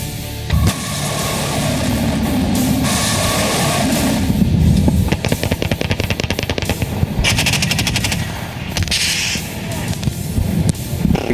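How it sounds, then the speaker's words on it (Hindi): Dense machine-gun fire and rapid bursts of gunshots ring out during a Russian military exercise featuring tanks, rocket launchers and missiles, loud and sustained with a continuous rumbling background throughout. "Cruise missile, rocket launcher, tank, missile और अंधाधुंध फायरिंग।"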